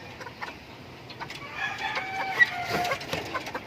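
Young stag rooster crowing in a rural yard with cages set in a tree, one fairly faint drawn-out crow over a quiet outdoor background with light clucking.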